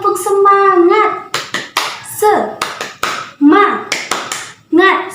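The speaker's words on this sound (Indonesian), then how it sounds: "kita tepuk semangat dulu ya" A class of schoolchildren does a rhythmic spirit clap, with sharp hand taps and claps in a patterned beat mixed with a teacher's and children's chanting voices.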